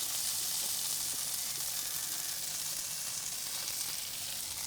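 Grated potato rosti frying in a pan, giving a loud, steady hissing sizzle that stays even and close throughout, with no talking.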